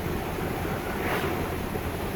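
Ocean waves roll onto a beach beside a seaside community, a broad steady wash of surf mixed with wind buffeting the microphone, with no voices.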